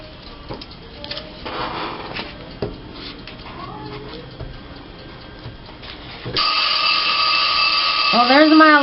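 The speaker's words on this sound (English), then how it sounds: "there's my alarm" An alarm goes off indoors during a crafting session, cutting in partway through as a loud, sustained electronic tone with repeating warbles, after a stretch of quiet tapping and handling noises.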